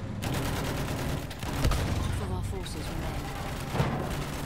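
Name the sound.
double machine gun firing in video game Battlefield 1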